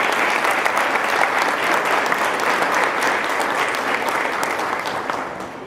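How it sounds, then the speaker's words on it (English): Sustained crowd applause at a high school senior night honoring scholarship presenters, thick and even before fading slightly at the end. "So this is a big round of applause."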